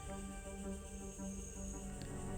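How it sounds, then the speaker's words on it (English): A bush cricket in a rainforest canopy at night gives a continuous high, shrill stridulating buzz, steady and fairly close, over a dense background of other insect hum and forest noise. "It's a bush cricket, active at night, making loud sounds and avoiding prey through camouflage."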